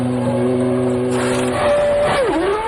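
A 1997 Ferrari Formula 1 car pulls out of the pit lane during a race. Its engine holds a steady, fairly distant tone, then swells and bends in pitch as it drives away.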